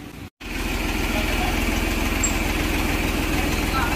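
An Escort Powertrac Euro Next 52 HP tractor engine idles close by, a steady low rhythmic chugging that starts after a brief silence and holds even and loud to the end.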